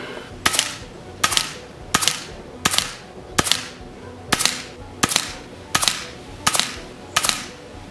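Rifle shots during a barrel tuner test, ten sharp loud reports spaced evenly about three quarters of a second apart, each ringing briefly, with no talk.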